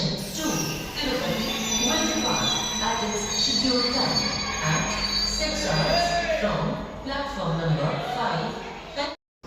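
A passenger train at Hospet junction rumbles with a continuous low roar and high wheel squeals, while voices murmur throughout.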